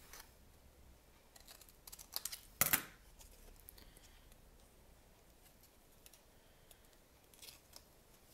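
Scissors cutting cardboard diagonally for a handmade correspondence box, with a few quiet snips building to one sharp, close cut, then sparse faint clicks against a quiet room.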